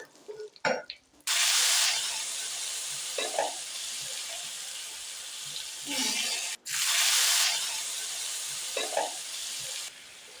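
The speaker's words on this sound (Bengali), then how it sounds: "এবার আমি এর মধ্যে গোটা গরম মশলা ফোড়ন দিয়ে দিলাম" Whole garam masala spices sizzle and crackle in hot oil left over from frying fish, a loud steady hiss broken by a couple of short pauses and stirring sounds, with no talk.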